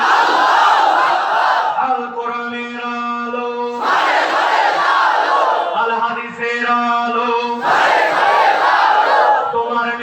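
A large crowd at a Bengali religious gathering roars the takbir chant in unison, loud massed voices surging in waves with sustained harmonic shouts between bursts, continuing across the whole stretch.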